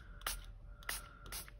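A spray can of ink sputters in three short, uneven bursts, each a sharp hissing spray with breaks between, close and fairly quiet in a still room.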